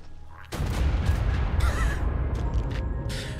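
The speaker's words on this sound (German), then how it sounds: "Solche Explosionen lassen mein Herz höher schlagen" Loud, dense explosions and rattling gunfire in the video game Primal Fear burst in suddenly after half a second of quiet and continue as a sustained barrage of booms and crackling shots, with no talking.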